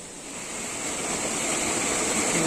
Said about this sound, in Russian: по центру видим за кронами водопад